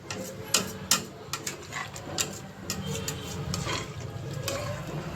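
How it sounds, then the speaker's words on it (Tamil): Washed, soaked rice is tipped into a pot of boiling water for mutton biryani, giving a few soft splashes and pours followed by a low, steady bubbling simmer, close and fairly quiet. "தண்ணி கொதித்த பிறகு நம்ம ஊற வச்சுருக்க அரிசியை நல்லா கழுவிட்டு சேர்க்க போகிறோம்."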